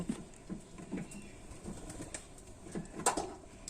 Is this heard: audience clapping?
no